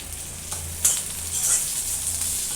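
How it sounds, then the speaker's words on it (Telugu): Onions, green chillies, curry leaves and garlic sizzle in a pan for a chicken majestic dish, a steady close hiss with soft crackles and no voices. "ఈ ఉల్లిపాయలు కూడా కొద్దిగా మగ్గనిద్దాము."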